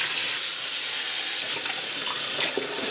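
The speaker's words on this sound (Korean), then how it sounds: "이제 흐르는 물에 헹궈 주겠습니다." Running tap water pours steadily over soaked meat being rinsed under a kitchen faucet, a constant close splashing hiss with small shifting spatters, no talk.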